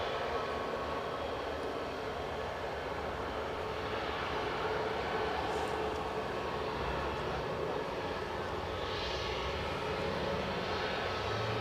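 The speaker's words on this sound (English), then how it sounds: "PA34 sounds gorgeous" A Piper PA34 twin-engine aircraft runs at Edinburgh airport, a steady, fairly faint broadband engine drone heard from a distance throughout, with no talk.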